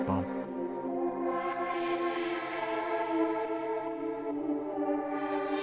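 A sustained Xfer Serum ambient pad with reverb, layered harmonic tones swelling evenly and continuously, with slow shimmering modulation up top, playing alone at a moderate level.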